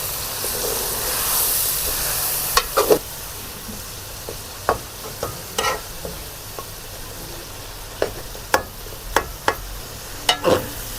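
Tomatoes frying in a pan with spices, a steady sizzle under sharp scraping knocks of a spoon stirring, about a dozen strikes spaced irregularly over the constant hiss, close up with no voices.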